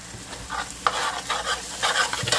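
Garlic and pepper sizzle and fry with beef already seasoned with green seasoning, celery and thyme in a pot, with a spoon stirring through, bright crackling bursts coming close and steady without talk.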